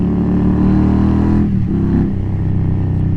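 An Indian motorcycle rides at steady speed, its engine droning loud and close under rushing wind, with a brief dip in revs midway before the drone resumes.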